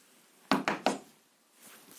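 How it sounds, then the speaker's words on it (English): Three quick, close hollow knocks land on a bird prop in a jungle-themed escape room puzzle, followed by a quiet pause with only faint room tone. "And the last one, this bird, we need to knock."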